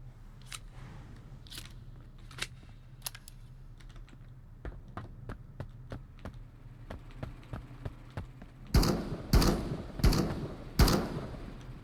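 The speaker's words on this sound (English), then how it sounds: "let's top off the shotgun first and foremost" Shells are fed one by one into a shotgun in the shooter game Marauders: a run of sharp, evenly spaced clicks and metallic snaps, ending in a few louder heavy clacks as the action is worked.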